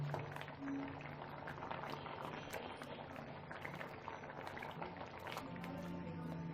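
A pot of Japanese fruit kheer with milk and rice bubbles steadily on the stove, a dense, continuous simmering crackle heard up close at moderate volume.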